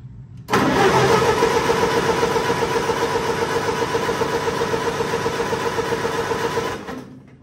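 A 1947 Cockshutt C30 tractor engine cranks steadily and loudly for about six seconds on the starter without ever firing, its rhythmic churning ending abruptly.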